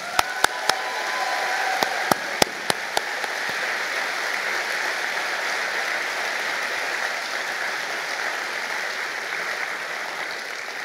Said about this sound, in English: Let us hear a round of applause for our families